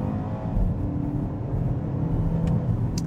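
A BMW X2 xDrive28i SUV pulls hard in sport mode, its engine rumble building steadily with quick gear shifts, heard from inside the cabin as a continuous close, loud drone.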